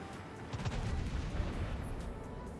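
Main guns of the Brazilian tier VIII premium battleship Atlântico boom in World of Warships, a sustained heavy rumbling salvo with layered blasts, loud and close.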